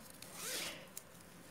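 A zipper on a handmade bag is pulled in one smooth, close rasping stroke of about a second, with a small click near the end and no talk.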